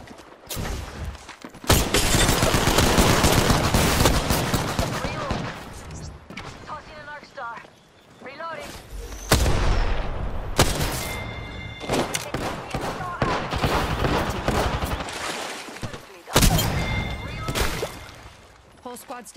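Gunfire in the Apex Legends video game comes in loud, sustained automatic bursts broken by short pauses, mixed with thuds and impact crashes. Game voice lines play over the shooting.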